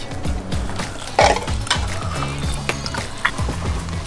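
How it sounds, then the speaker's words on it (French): A meat grinder mincing meat gives off a rhythmic, repetitive mechanical clatter and ratcheting, close and steady, with occasional louder knocks. "C'est ça que ça fait un hachoir"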